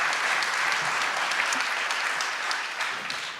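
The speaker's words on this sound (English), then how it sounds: "So one more applause, please, for all our investors and successful mentors." An audience claps steadily for investors and mentors at a startup pitching competition on stage, a dense, sustained round of applause with no voices over it.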